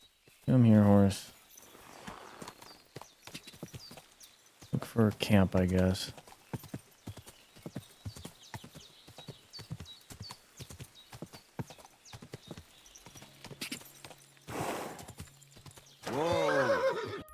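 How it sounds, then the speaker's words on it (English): A horse in a video game clip-clops along and lets out several loud whinnies, with quieter hoofbeats between them, while someone talks over the game sound. "Come here, horse."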